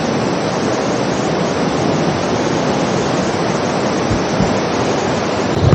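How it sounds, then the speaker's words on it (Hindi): The Tons River rushes loudly on the Har Ki Doon trek, a dense, unbroken roar of fast water heard close up with no voices over it. "On the river bank of Tons river या एंशिएंट वैदिक सरस्वती रिवर।"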